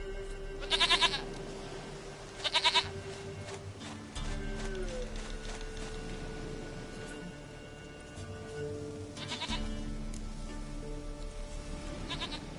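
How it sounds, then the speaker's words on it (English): Goat bleating in The Witcher 3 video game, two short, loud quavering bleats early on, set over a steady low game background with tonal music-like hums. "Goat of mine, dearest, sweetest goat."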